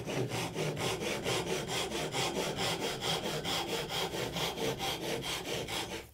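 A hand saw cuts through wood at 90 degrees for a dovetail joint, steady rhythmic back-and-forth strokes, loud and close, without pause.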